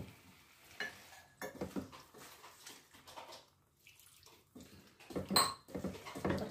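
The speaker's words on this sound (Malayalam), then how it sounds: "ഇതിലേക്ക് കുറച്ച് വെള്ളം കൂടി ഒഴിച്ച് കൊടുക്കണം കേട്ടോ" Water poured into chicken curry cooking in a pan, with splashing pours and sizzling bursts, quiet stretches between, and a louder splash near the end.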